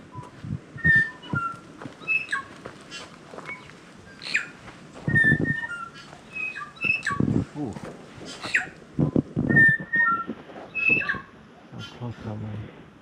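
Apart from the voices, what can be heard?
bellbird song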